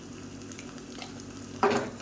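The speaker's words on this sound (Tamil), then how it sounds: "பூண்டு வந்து நல்லா இப்படி கருகி வரணும்" Garlic cloves with skins on and dried chillies fry in oil for the tempering of a keerai kootu, giving a steady close sizzle that flares sharply louder near the end.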